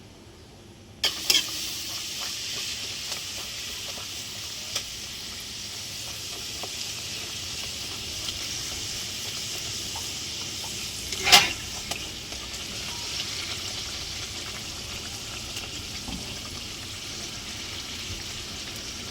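Luchi, small rounds of puffing flour bread, deep-frying in hot oil in a home kitchen, giving a steady soft sizzle throughout with a few light clinks and one sharp clatter partway through.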